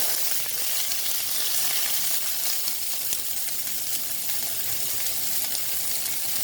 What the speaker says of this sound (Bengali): আমার পটলটাও মোটামুটি ভাজা হয়ে গেছে